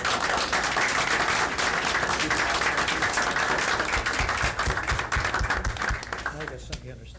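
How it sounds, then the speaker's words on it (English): Applause from an audience at a 1999 school board meeting, a dense steady patter of clapping that fills the room and tapers off near the end, with voices mixed in beneath it. "Another round of applause, please."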